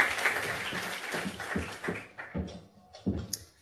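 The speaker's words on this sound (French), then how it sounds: "Vous pouvez évidemment les applaudir." An audience applauds panelists at an aluminium industry conference, a steady wash of claps that gradually fades, with a few stray claps and faint murmurs at the end.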